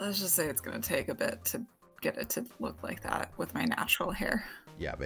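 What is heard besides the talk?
No everyday noise stands out behind the speech.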